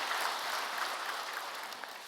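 Audience clapping at a church autumn festival gathering, directed toward members of large churches; a steady, even wash of applause, fairly soft and distant, lasting the whole short stretch.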